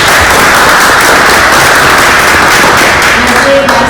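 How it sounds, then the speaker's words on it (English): A room full of people applauding at a school district board of education meeting, dense and loud clapping that stays steady throughout with no pauses. "Round of applause."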